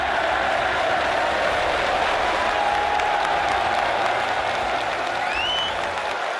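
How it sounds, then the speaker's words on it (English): A large crowd at the Crucible in Sheffield roars and applauds at a snooker world championship, a dense, sustained wall of clapping and cheering that holds steady throughout. "And the crowd roars."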